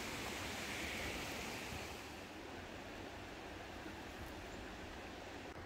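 A river with crystal clear water runs right beside a walking path in a Norwegian national park, giving a steady, close rushing wash that is slightly louder at the start and then holds an even level, with no voices.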